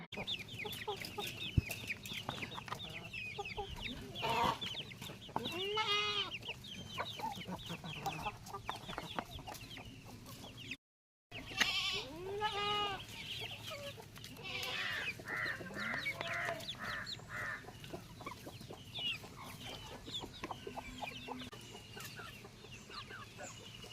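Free-range country hens cluck and call steadily throughout, close and fairly loud, with a short gap near the middle and no speech.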